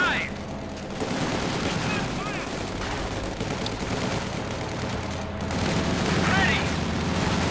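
Bursts of MG42 machine gun fire in Company of Heroes 2 during a 1v1 winter battle on ice, mixed with other gunfire and explosions under continuous commentary.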